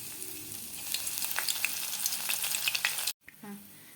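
Crushed garlic frying in hot oil gives a steady, close sizzle with a few stirring scrapes, then cuts out abruptly near the end before a short burst of sizzling returns.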